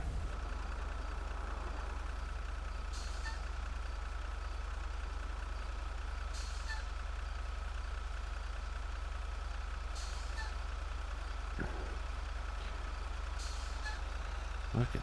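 A truck backs a trailer into position, with steady engine rumble throughout, repeated reversing beeps, and short sharp air-brake hisses near the end, all fairly close and without talk.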